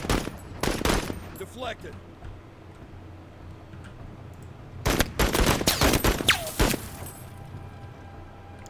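Gunfire from soldiers shooting in the video game Menace, with loud clustered bursts of shots near the start and a denser volley in the second half, plus a brief spoken remark over the action.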